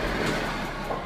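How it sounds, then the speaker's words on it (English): A subway train on an urban rapid transit line, a steady broadband rumble and rattle of cars on track, continuous and fairly close with no pauses. "Subway train. A type of train used for urban rapid transit, operating in underground tunnels or elevated tracks."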